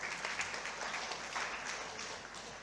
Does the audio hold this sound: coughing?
no